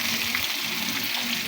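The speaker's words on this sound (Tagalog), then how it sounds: "Ilagay na natin yung ating sahog na inihaw" Grilled tambakol fish going into a pot of cooking miswa soup, a brief steady sizzle and bubbling close by, with no voices.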